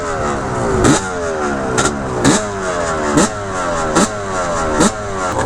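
A Yamaha Banshee two-stroke ATV engine revs hard out on the sand dunes in six rising, snarling bursts about a second apart, each one climbing steeply and then dropping back, close and loud.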